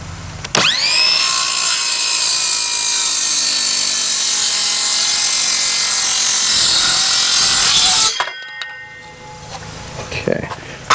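A hand saw cuts the tail off a wooden post for a woodshed build, a loud continuous rasping run of strokes lasting about eight seconds before stopping, followed by a few faint knocks.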